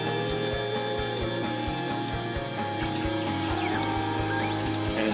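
A milling machine cuts a wax ring pattern behind a blast shield, giving a continuous loud mechanical whir with a fast regular ticking pulse throughout.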